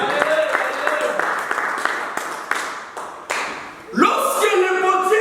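A church congregation claps in a steady rhythm during worship, the regular beats loud and close, with voices rising over the clapping near the end.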